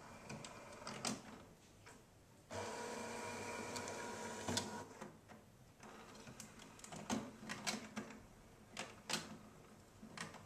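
A Cricut Imagine cutting machine grabs and feeds its cutting mat, giving a sustained mechanical whir broken by clicks, ticks and short motor bursts, close and fairly quiet.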